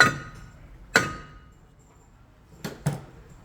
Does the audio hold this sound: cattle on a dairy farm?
no